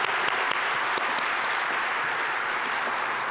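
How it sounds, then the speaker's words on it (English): A convention audience at an engineers' convention in Australia applauds, many hands clapping in a dense, even wash that holds steady from start to finish at moderate distance. "Let's give them another round of applause."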